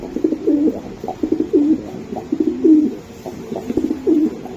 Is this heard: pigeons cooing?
yes